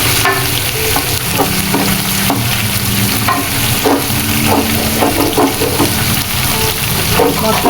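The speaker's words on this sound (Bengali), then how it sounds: "মশলাটা একটু কষিয়ে নিতে হবে" Spice paste sautéing in a cooking pot for hilsa pulao, a steady close sizzle broken by repeated scraping stirs of a spoon against the pot, continuous with no voice.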